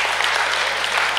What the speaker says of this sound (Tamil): ஓகே, கைத்தட்டலாம், கைத்தட்டுங்க.